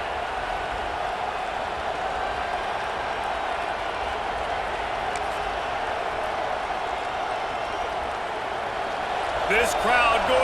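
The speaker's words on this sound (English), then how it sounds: "This crowd going to try to make life miserable for these guys" Steady, dense stadium crowd roar from EA Sports College Football 26 fills the whole stretch without a break, swelling slightly near the end, while a commentator talks over it.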